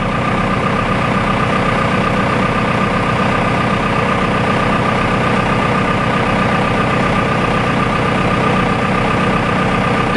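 A 4BT Cummins diesel engine idles just after an oil change with a loud, steady, low rumbling clatter close up, its even throbbing uninterrupted throughout.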